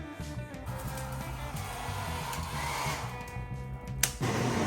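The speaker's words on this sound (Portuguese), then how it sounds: "Pegar um secador" A hair dryer blows with a steady, continuous whooshing hum at close range, holding an even loudness throughout with a brief clack near the end and no speech.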